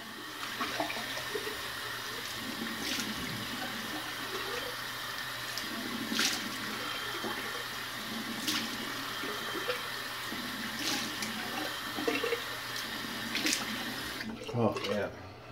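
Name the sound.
cold water running from a tap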